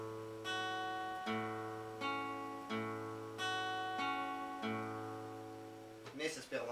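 Plucked acoustic guitar notes and chord tones for a song ring out one by one, each decaying before the next, in a slow, clear phrase.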